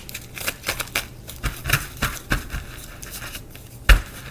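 Playing cards being shuffled in a series of quick riffling bursts and soft snaps, ending with a sharp louder flick, close and alone with no talk.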